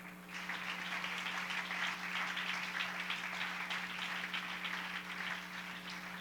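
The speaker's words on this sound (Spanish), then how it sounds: "Fuerte ese aplauso al Señor." A church congregation claps together in steady, moderately distant applause over a constant low electrical hum, with no talk on top.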